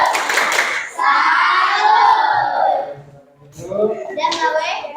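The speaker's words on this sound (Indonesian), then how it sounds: "Tepuk salut." A class of schoolchildren in a classroom performs a salute clap, a loud burst of group clapping followed by children chanting together in unison, close and energetic.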